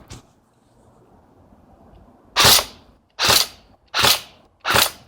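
An airsoft AK-47 Kalashnikov rifle of real wood and metal fires four sharp semi-automatic shots, evenly spaced after a quiet pause, close and loud with no talk.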